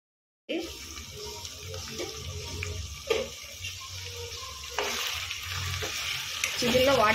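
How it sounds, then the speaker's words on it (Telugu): Chicken curry pieces sizzle and fry in thick masala while being stirred, a continuous close sizzle with scraping spoon strokes and a brief clatter, growing louder and more intense toward the end. "బాగా మసాలా పట్టిన దాకా తిప్పుతామండి"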